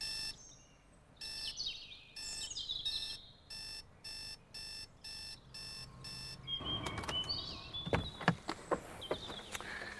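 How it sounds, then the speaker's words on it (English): A series of short, evenly spaced electronic beeps from a car's radar-style proximity buzzer repeating steadily, then giving way to a mix of chirpy tones and sharp clicks; no talking. "one of the first cars to be equipped with a radar-style proximity buzzer"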